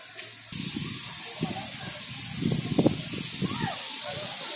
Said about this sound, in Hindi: यहाँ से ये पानी का झरना ये नीचे गिर रहा है।